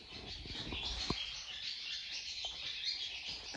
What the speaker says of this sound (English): the birds have something to say.